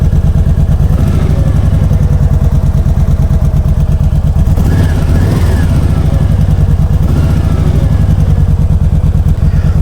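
A 2017 Kawasaki Voyager 1700 motorcycle engine runs close by with a steady, loud, throbbing low rumble that holds evenly throughout, with a slight surge partway through.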